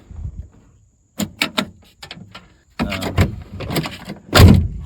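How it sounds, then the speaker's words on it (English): A series of close metallic clicks and clunks from a Ford F-150 truck's stuck rear door latch being worked, followed by a heavier rattle as the door swings open. "if I hold it into place and use the latch, the door opens"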